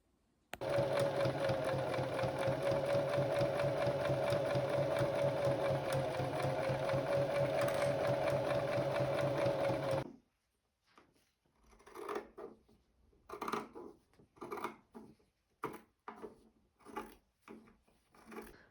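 A home sewing machine stitches fabric with white thread in one unbroken whirring run of about ten seconds, loud and close. It then stops, leaving scattered soft handling knocks and rustles.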